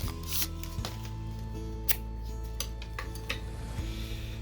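Wooden Japanese chopstick stir sticks clatter and scrape against a cup while resin is mixed for dice making, a busy run of close clicks and light knocks with a steady hum beneath and no talking.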